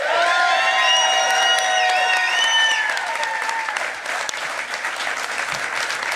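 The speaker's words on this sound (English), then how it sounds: "Please give her a round of applause." A political audience claps steadily and fills the hall after a request to applaud a candidate's wife during an attorney general concession speech. The applause is dense and loud at first, then eases slightly and carries on without any talking.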